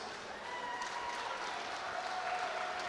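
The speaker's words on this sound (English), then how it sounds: "Ladies and gentlemen, a round of applause for both boxers." A crowd at a live boxing fight night applauds both boxers with continuous, even clapping that carries from a moderate distance and holds steady to the end.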